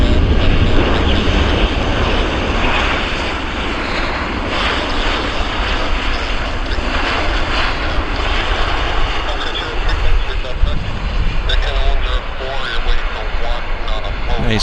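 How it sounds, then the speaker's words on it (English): A fixed-wing airplane lands and rolls out on the runway at Vancouver Airport, a loud, sustained engine and rolling roar heard close, with a person talking over it. "It's going to roll to the end."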